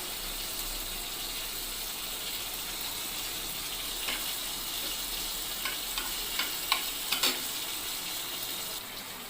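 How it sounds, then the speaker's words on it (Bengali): Whole garam masala and dried chillies sizzle in hot oil for a vegetarian paneer posto dish, a soft steady frying hiss with a few faint pops and clinks toward the end. "এবার গোটা গরম মশলা শুকনো লঙ্কা দিয়ে দেবো।"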